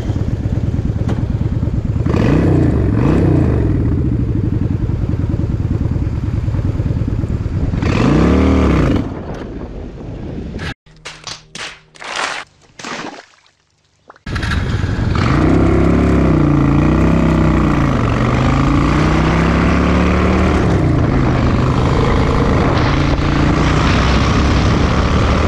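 A car engine runs while driving, its pitch climbing and falling through the gears in loud, close revs, with a brief quieter lull midway before the engine pulls strongly again; no talking.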